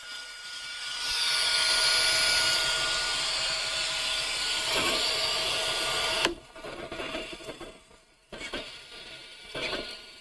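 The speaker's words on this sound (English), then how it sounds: "So that's what it sounds like inside the printer." A 3D printer's servo motors run fast inside the machine, giving a steady loud whine and hum that breaks into choppy bursts of movement partway through. No one speaks.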